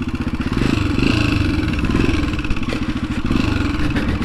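Honda XLX 250R motorcycle revving hard while popping wheelies, a loud, close, throbbing engine with rapid firing pulses and clatter, rising and dipping as the throttle changes, no talk heard.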